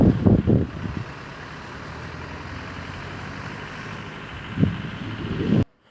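A Tempo Traveller van climbs a forest road on the Udumalpet–Chinnar route, its engine droning steadily up close, with louder low rumbling surges at the start and again near the end before the sound cuts off.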